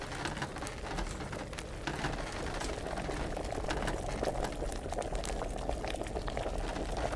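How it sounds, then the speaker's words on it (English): Liquid bubbling steadily in an alchemy pot in Kingdom Come: Deliverance, a continuous close rolling boil with crackling pops, alone without talk. "All right, we're gonna get this back up to a boil."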